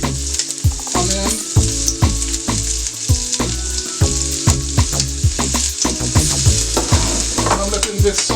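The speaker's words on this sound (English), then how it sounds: "and I'm letting this saute" Peppers and onion sizzle steadily in a hot pan, a loud continuous frying hiss broken by frequent clattering scrapes and knocks of a utensil stirring the vegetables.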